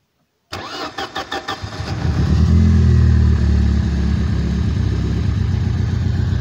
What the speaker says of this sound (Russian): Ну-ка, Мишка, запусти-ка мотор.